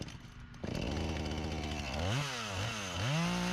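A chainsaw starts up and cuts into a termite-killed dead tree, its engine snarling close and loud, then bogging and revving in wavering pitch as the chain bites into the wood.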